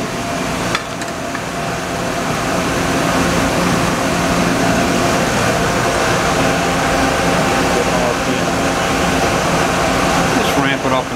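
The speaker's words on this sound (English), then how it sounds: "Can you throw the spindle on?" A Mori Seiki SL-25Y CNC lathe spindle runs with a steady mechanical hum and whir inside a workshop, continuous and fairly loud, with a few clanks near the start and end and voices speaking over it.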